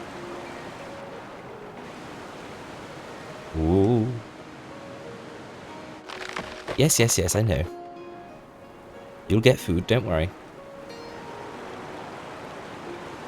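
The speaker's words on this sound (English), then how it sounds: "The water in the river is restored. See that cascade down here?" Steady rushing of water cascading into a river in a city-building game, a continuous broadband wash running throughout, with a voice talking over it and short bursts of other game sounds.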